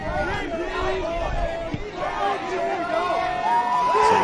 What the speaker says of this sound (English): Some grumblings in the crowd